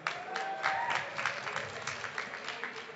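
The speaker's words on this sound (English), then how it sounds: "So a big round of applause for those guys." Crowd clapping at a student union election results night, a steady, moderately distant patter of many hands with no talk over it.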